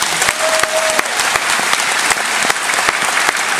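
A live audience on a cruise-ship show breaks into steady, dense applause that fills the room, with no pauses, after being asked to clap to answer a show-of-hands question.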